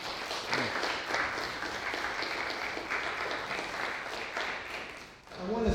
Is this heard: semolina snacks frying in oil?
no